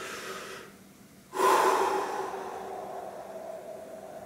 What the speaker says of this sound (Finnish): Ja sitten sisään hengitys ja ulos.